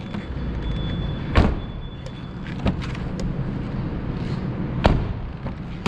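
A Genesis car door is opened and shut several times, with sharp latch clunks and thuds spaced a second or more apart over a quiet background hum.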